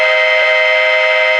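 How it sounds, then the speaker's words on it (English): Nathan K5LA horn sound played through a TCS WOW Heavy Steam model train decoder: one steady, sustained chime-horn blast that holds at an even, loud level throughout with no talk. "Nathan K5LA horn."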